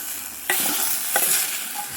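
Roasted vermicelli is stirred into cooked sago for milk payasam, and two sharp spoon scrapes against the pot ring out over a soft, steady hiss, close and brief.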